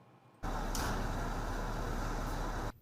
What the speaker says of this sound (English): The rumble of the engine as crews prepare to head out to a call